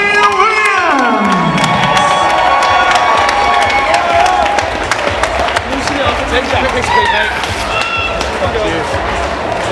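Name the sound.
crowd applauding and cheering at fight event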